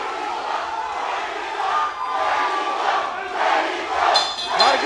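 Boxing crowd at a Mexican fighter's home arena chanting for Mexico during a bout, a continuous rolling roar of many voices with rhythmic swells, fairly loud throughout.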